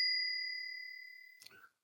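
A bus bell rung by pulling a cord gives a single bright ding that rings out and slowly decays, followed by a brief faint rustle near the end.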